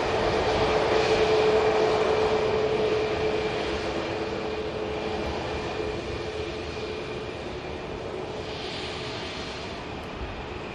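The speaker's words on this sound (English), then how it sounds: "Just about to get a glimpse of the Logan Air" Loganair aircraft at Manchester Airport, a steady broadband engine roar heard from a distance, loudest at the start and slowly fading, with a faint whine running through it and no talk.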